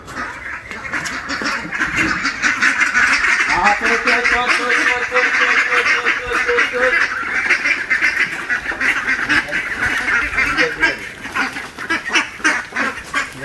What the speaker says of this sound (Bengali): এখন আমি খানা খাওয়াবো দেখবেন হাঁসগুলো পুরো পাগল হয়ে যাবো আমার জন্য